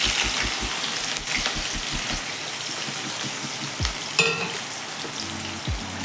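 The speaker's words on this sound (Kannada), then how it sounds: "ಎಣ್ಣೆ ಕಾದಿದೆ. ಹಸಿಮೆಣ್ಸಿನ್ಕಾಯಿ ಹಾಕೋತಾ ಇದ್ದೀನಿ." Green chillies drop into hot oil with a crackling, rain-like sizzle. Rhythmic low thumps are heard at the start, and a few louder clatters come later, with no talking.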